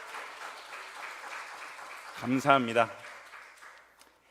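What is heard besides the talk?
church congregation applause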